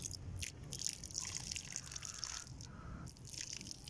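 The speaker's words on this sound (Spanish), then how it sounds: "La voy a mojar con esta agua que es bastante buena para nuestras plantas" Rainwater is poured gently over a pot of substrate sown with watermelon seeds. It makes a steady, close trickling and dripping sound with soft splashes throughout, and no voices.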